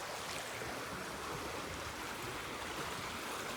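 A shallow, clear stream in Schmalkalden, Germany, flows under a small bridge with a steady, close rushing wash. It holds an even level throughout, with no voices.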